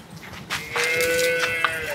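A cow moos loudly and close by at a cattle farm where cattle are for sale, one long drawn-out call with a steady pitch and no talking around it.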